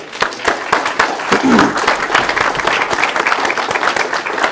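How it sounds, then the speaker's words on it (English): Audience applauding the hosts at a speech event by an anti-Common Core speaker, a dense, steady wash of many hands clapping that stays loud throughout. "can we please have a round of applause for the hosts here who brought us here and let us use this?"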